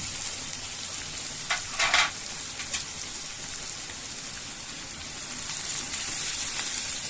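Garlic pieces frying in a pan give a steady close sizzle, with a few brief louder crackles and stirring scrapes near the start and no voices.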